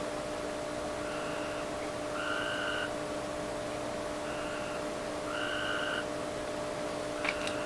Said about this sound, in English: Them damn frogs out there are crazy loud